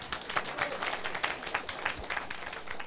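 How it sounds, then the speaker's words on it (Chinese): A political lecture audience applauding in a hall, a quiet dense patter of many hands clapping steadily for a few seconds. "你唔爱甲我拍手呀"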